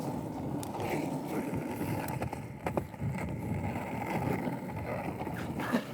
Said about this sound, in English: Oh, the wind's too strong right now.